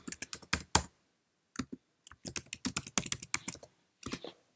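Bursts of keystrokes on a computer keyboard as a prompt is typed on a Mac desktop, quick irregular clicks in clusters separated by short pauses, close and clear with no talking.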